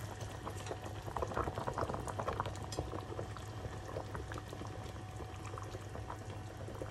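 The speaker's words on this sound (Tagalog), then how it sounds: "Kumukulo na ang ating tubig." Water at a rolling boil in a cooking pot, a steady dense bubbling and churning that holds close and loud for the whole stretch with no voices over it.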